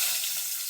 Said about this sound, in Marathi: आता वेलची खोबरं जरा परतून घेते तुपावर